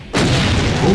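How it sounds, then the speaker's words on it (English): A deep, booming explosion from the video game DoomRL bursts in suddenly and loudly, then rumbles on as a dense, roaring blast for the rest of the second. "There was a lot of explosions."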